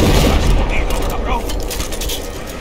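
Gunfire in the video game Battlefield 4 opens with a loud burst of shots and booms, then continues as a rumbling, crackling exchange of fire that fades slightly toward the end.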